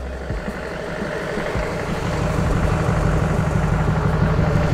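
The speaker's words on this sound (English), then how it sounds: "I'm gonna let her warm up some before I take her for a drive." A Duramax diesel engine in a Humvee idles steadily to warm up, a close, continuous low rumble that holds even and grows slightly louder, with no talking.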